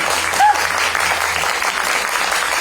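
Audience applause at a TV variety show press launch welcoming the program's director, a steady wash of clapping from a crowd throughout, with a brief voice near the start.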